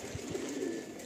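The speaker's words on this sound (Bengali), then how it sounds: "এটা অরিজিনাল রটেলু পায়রা" An original Andhra Rotelu pigeon in a loft gives a soft, faint coo, a couple of low pulses followed by a brief murmuring note, heard alone in a quiet room.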